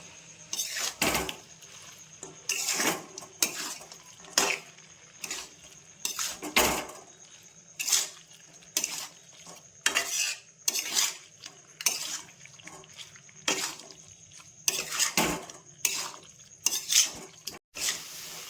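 Meat being stirred and sautéed in a metal pot for spicy mutton ghugni: a spoon scrapes and knocks against the pot in repeated irregular strokes, close and fairly quiet, with soft sizzling in between.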